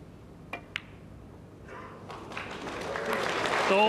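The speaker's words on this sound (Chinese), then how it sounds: "嗱觀眾都好心水清啊，即刻拍手啊" Applause swells from quiet to loud and sustained as the audience claps at a snooker match between John Higgins and James Wattana at the 2007 Euro-Asia Snooker Masters Challenge in Hong Kong, following a couple of sharp clicks early on.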